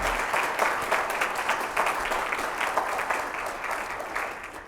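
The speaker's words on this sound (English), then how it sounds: "Ladies and gentlemen, give him a big round of applause." A large audience gives sustained applause for an international director at a motivational talk, loud continuous clapping with slightly rhythmic peaks throughout.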